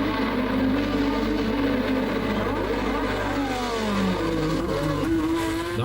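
Formula 1 race cars at the 1985 Detroit Grand Prix street race, engines roaring loud and close with rising and falling pitch as cars accelerate and pass, continuous throughout.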